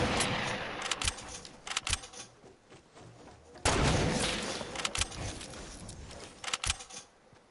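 Gunshots crack through a Fortnite match, several scattered near and distant reports with one heavy blast midway, some of them hunting rifle fire, and a voice speaks between the shots.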